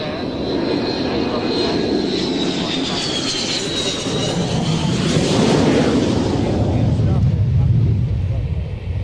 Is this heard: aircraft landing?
yes